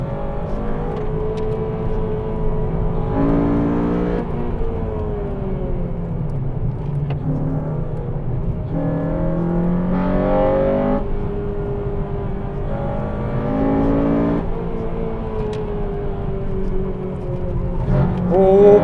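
A hot hatch engine racing on track rises in pitch through the gears, then drops sharply at each shift. Several repeated climbs and shifts come from close inside the cabin, steady and loud with no talk.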